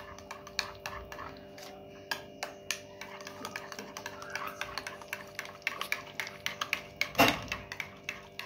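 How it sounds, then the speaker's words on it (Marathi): A spoon or whisk beats dahi vada batter with powdered sugar and a pinch of salt in a bowl, stirred in one direction. Quick, regular clicking taps against the bowl go on throughout, fairly close, with one louder clatter near the end and no talking. "एकाच डायरेक्शन मध्ये त्याला फेटून घ्यायचं आहे।"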